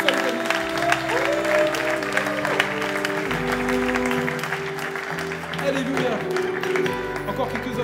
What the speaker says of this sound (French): Est-ce qu'on peut applaudir ce que Dieu fait?